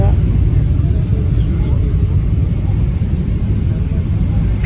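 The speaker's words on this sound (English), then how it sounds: "This is the video of landing towards Dhaka" Airliner cabin during the landing approach into Dhaka, a steady loud broadband engine and airflow roar filling the whole stretch without a break.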